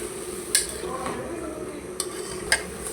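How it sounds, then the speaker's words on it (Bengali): Spices with coriander powder are sautéed in a pan, a soft continuous sizzle under repeated scraping strokes of a utensil and three sharp metal clinks against the pan. "এখন ভালো করে কষায় নেব মশলাটা।"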